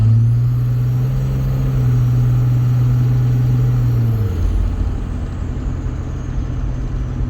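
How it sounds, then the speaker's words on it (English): A 2006 Dodge Ram 3500 with a 48RE automatic transmission, valve body rebuilt with a shift kit, drives with a loud steady engine drone and whine whose pitch drops clearly at one upshift partway through. "you can see the truck's shifting great."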